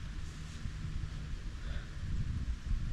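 Steady wind rumbles and buffets the microphone throughout, with low gusty roaring that swells toward the end, outdoors during a deer hunt in Michigan; no voices.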